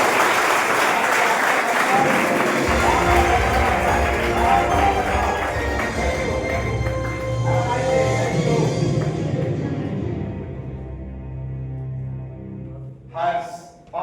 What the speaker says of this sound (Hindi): एक बार मैं चाहता हूं हर्ष के लिए जोरदार तालियां